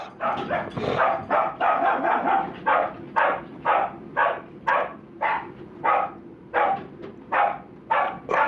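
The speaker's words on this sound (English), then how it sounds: "Who let the dogs in?" A rapid string of loud barks repeats in a steady, almost chant-like rhythm, close and continuous for several seconds.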